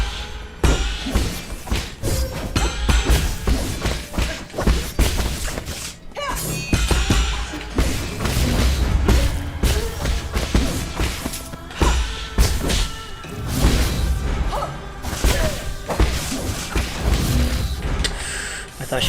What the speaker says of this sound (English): She leaps up, uses her arm to explode the ground.